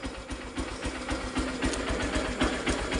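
A car engine runs at a steady idle just after starting, a close, continuous rumble with a regular mechanical pulse and a faint ticking clatter throughout.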